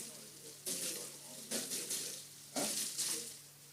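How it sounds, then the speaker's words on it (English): A decapitated bird is dunked into hot water to loosen its feathers at a young chefs' culinary competition, giving bursts of splashing and sloshing that come in a few separate surges and stay fairly faint. "now her next step is she's going to now dunk it into the hot water to loosen up the feathers"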